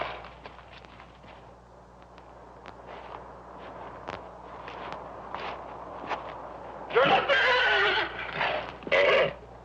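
A horse in a Western film scene walks with soft, irregular hoof thuds, then lets out loud, shrill neighs near the end, close and distinct over a quiet background.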